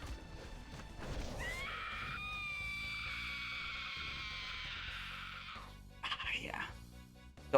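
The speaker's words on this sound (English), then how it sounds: "The Auriaya Scream." A feline boss roar from Auriaya in the Ulduar raid of World of Warcraft: a long, loud, tonal scream held for several seconds over game effects and background sounds, then fading into a brief burst of clatter.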